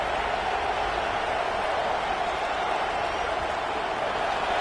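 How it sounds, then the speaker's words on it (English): Dense, steady roar of a packed stadium crowd at a college football league game, a constant wash of cheering and noise with no breaks. "listen to this crowd noise. This stadium is vibrating."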